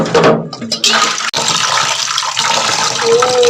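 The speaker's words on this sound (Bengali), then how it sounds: "সবই একসঙ্গে ধুয়ে নিই" Vegetables are washed under running water in a home kitchen, a loud, continuous gush and splash with a brief clunk partway through.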